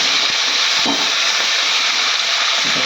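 Nigella seeds hit hot oil in a pan and sizzle in a loud, steady, bright hiss that holds evenly throughout, with a couple of soft knocks in the background.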